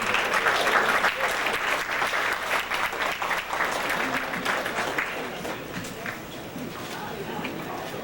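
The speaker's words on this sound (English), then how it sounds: "Let's give Dr. Sebi another round of applause" A lecture audience gives Dr. Sebi a sustained round of applause, dense clapping strong at first and gradually thinning over eight seconds, with crowd voices mixed in.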